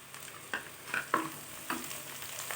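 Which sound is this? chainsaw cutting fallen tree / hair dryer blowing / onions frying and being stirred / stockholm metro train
onions frying and being stirred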